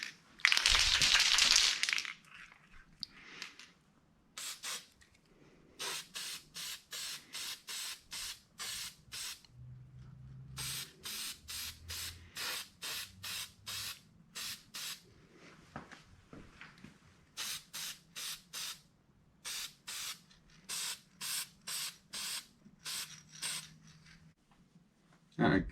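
Short bursts of red scratch-coat spray paint hitting a Traxxas Bandit RC car body being converted to an oval dirt car, close and hissy, repeating in a steady rhythm of quick passes with brief pauses between them.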